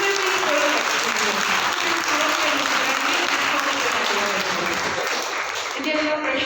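A seated audience at a Hindi spiritual question-and-answer talk breaks into steady, dense applause that fills the whole stretch, loud and close, thinning a little near the end.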